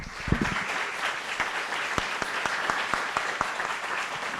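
An audience at a USP talk applauds a participant, a steady patter of many hands clapping at moderate volume with no talk over it.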